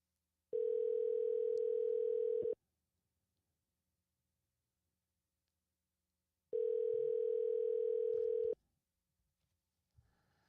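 Steady telephone dial tone sounding twice, each burst about two seconds long with a pause of silence between, clear and close with no talking over it.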